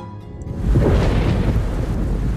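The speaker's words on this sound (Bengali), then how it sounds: "ওই দিন মুষলধারে বৃষ্টির সাথে ঘন ঘন বজ্রপাত হচ্ছিল" A heavy thunderstorm used as a sound effect in a Bengali village ghost story: driving rain, then a deep, loud thunder roll that swells in after half a second and keeps rumbling close.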